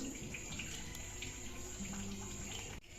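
Jaggery water being poured while making neyyappa, a continuous close, full rush of flowing liquid that cuts off abruptly near the end.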